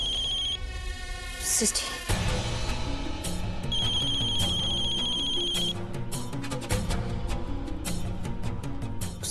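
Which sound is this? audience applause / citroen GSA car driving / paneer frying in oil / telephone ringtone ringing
telephone ringtone ringing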